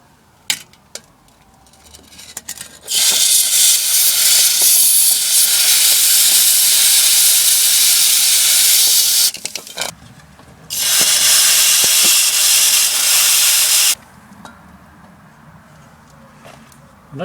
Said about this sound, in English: I'm going to try and freeze the bolt.